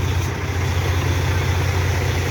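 A 500-horsepower truck engine with an EGR fault idles with a steady, low, heavy rumble, loud and close and unchanging throughout, with no speech.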